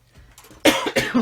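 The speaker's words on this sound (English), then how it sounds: "Got a bit of a cough coming" A short pair of close, sharp coughs from a person working at a table, the second burst following quickly after the first.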